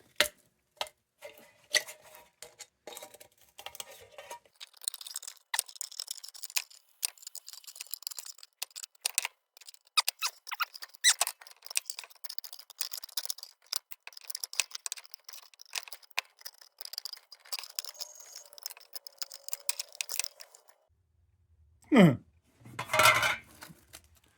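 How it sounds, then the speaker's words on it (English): Tin snips cut through the thin metal of a two-part C.T. Ham no. 2 lantern fount, making irregular close clicks, snaps and scraping crunches, then a short pause and a couple of louder metallic clanks at the end. "Maybe I'll put some tin snips on that and see what happens."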